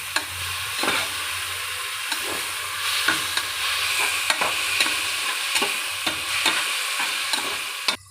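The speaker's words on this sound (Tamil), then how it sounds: "இப்போ நம்ம போட்ட தக்காளியோடு சேர்த்து நம்ம நல்லா வதக்கிக்கலாம்." Onions and tomatoes being sautéed together in a pan for egg biryani: a steady bed of sizzling oil with regular scraping spatula strokes roughly every half second, close and clear, no talking.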